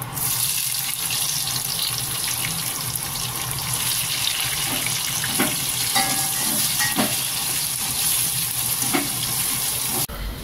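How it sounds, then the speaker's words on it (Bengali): Onions sizzle steadily in hot mustard oil with crushed whole garam masala, a dense, continuous frying hiss close up, with occasional light stirring clatters and no talking. "এরপর পেঁয়াজগুলোকে ভাজবো।"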